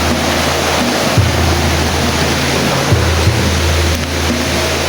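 Water flows in a creek with a loud, steady, close rushing wash that barely varies in level throughout.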